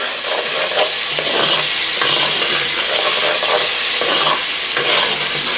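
Jollof rice with thyme and bouillon cubes is stirred in a pot, a loud continuous sizzling scrape with a steady rhythmic stirring texture throughout.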